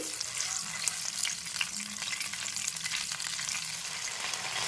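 Spice paste loosened with a little water is stirred in a pan for cauliflower rezala, a continuous frying sizzle with soft scraping strokes of the spoon throughout.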